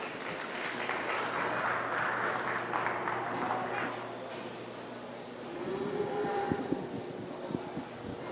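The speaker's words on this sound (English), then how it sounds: "Let's give these two young men a round of applause." A crowd applauds at a stocker feeder cattle show, the clapping strongest in the first few seconds and then fading as a voice talks over the arena background.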